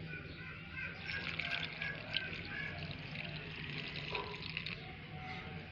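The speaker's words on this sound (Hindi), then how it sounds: "दूध डालेंगे इसके अंदर।" Milk pours into a yeast mixture for flower bread, making a soft, steady liquid trickle and splash against a continuous background hiss.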